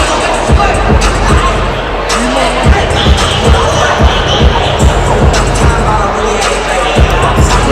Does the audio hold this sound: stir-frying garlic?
no